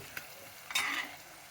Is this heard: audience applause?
no